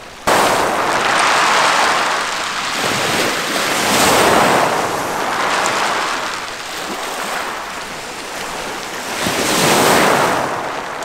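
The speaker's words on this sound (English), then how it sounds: "the water pushes the rocks, and the sound of them settling kind of makes this cool little noise" Lake Superior waves roll up a rocky North Shore beach in Minnesota, pushing the stones and letting them settle back, a steady wash that swells and ebbs in slow surges over wind noise, with no voices.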